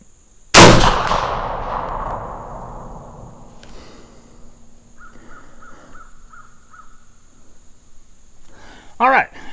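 A single loud muzzleloader rifle shot fired outdoors at a 100-yard target, sharp crack with a long decaying rumble, followed by faint crow-like calls and a brief clang near the end; speech probable elsewhere.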